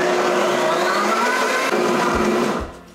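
A blender whirs loudly and steadily, mixing soy sauce and miso into a broth base for vegan chickenless chicken stock, running alone for most of the clip before winding down at the end.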